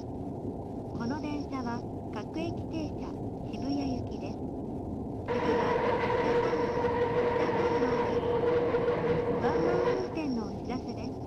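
A Tokyo Metro Fukutoshin Line local train in the BVE5 train simulator runs steadily on its way to Shibuya, with a continuous rumble and whine that swells louder partway through, under recorded Japanese station announcements.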